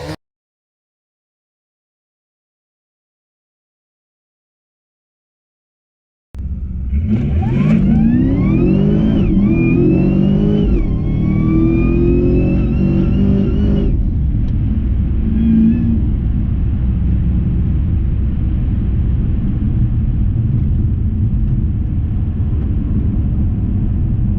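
A motocross bike on a test ride, its engine suddenly roaring to life after a stretch of silence, revving up and down in rising whines before settling into a loud, steady, close drone.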